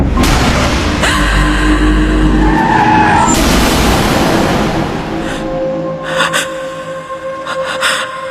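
Loud, long screech of car tires skidding in an accident, then the engine noise fades, followed by a few sharp scattered knocks and clatters.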